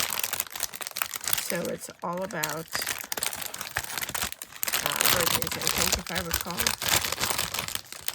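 Plastic packaging of a Diamond Press watercolor kit crinkles and rustles loudly and close up in repeated bursts, under a person talking.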